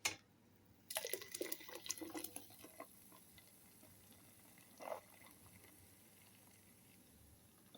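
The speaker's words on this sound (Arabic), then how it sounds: "نحط بقى اللبن اللي احنا ضربناه ده بالرغوة الجميلة دي على اللبن اللي في الحلة بتاعتنا" Frothy milk blended for homemade yogurt pours into milk in a cooking pot, a splashing, trickling rush of liquid for about two seconds, then a brief second pour, with quiet stretches between.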